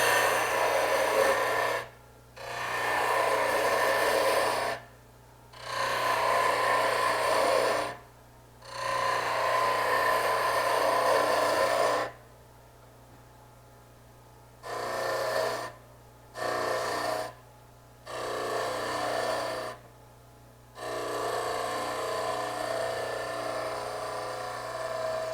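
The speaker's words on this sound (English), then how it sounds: "I'm going to get the gouge, and I want to first start bringing my handle down and in" A gouge cuts a wooden tool handle on a lathe in repeated bursts of coarse shaving rasp a few seconds long, separated by short quiet gaps over a low steady hum, up close.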